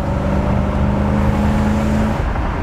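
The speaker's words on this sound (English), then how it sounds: "The car does run strong and it shifts hard." A 1969 Chevrolet Corvette engine runs steadily at close range, a continuous loud drone with a low humming tone throughout.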